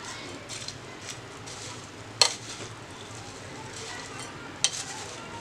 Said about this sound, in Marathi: सर्वात शेवटी कोथिंबीर घालणार आहोत आणि आता परत एकदा मिक्स करून घेणार आहोत।